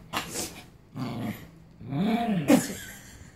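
An angry dog growls and snarls in close bursts, with whimpering yips and a loud bark near the end, no talking.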